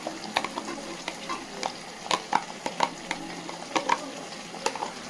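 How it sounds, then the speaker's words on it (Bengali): Paste of onion, garlic, ginger and green chili stirred in a hot pan, soft sizzling under a series of sharp spatula scrapes and taps in an uneven rhythm, close by. "ভালো করে মিশিয়ে নিচ্ছি মশলাকে"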